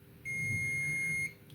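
Continuity beeping from a multimeter testing small capacitors on a Nintendo Switch board during an HDMI repair: one steady, high-pitched electronic tone held for about a second, clear and close against faint background hum.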